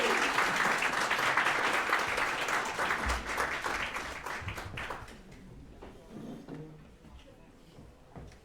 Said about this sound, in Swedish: Judges! En applåd!